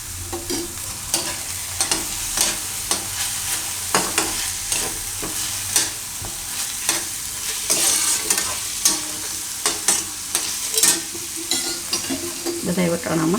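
Boiled peas are stirred in a pan over low gas, a spoon scraping and clacking at irregular intervals over a soft background sizzle.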